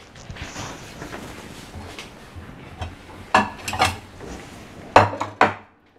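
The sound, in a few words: knife cutting an almond-filled chocolate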